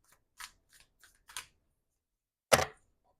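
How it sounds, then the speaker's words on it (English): A tarot deck is shuffled by hand, giving a few short, quiet papery snaps followed by one louder, sharper riffle near the end, with silence in between. "I'm just going to shuffle a couple more times"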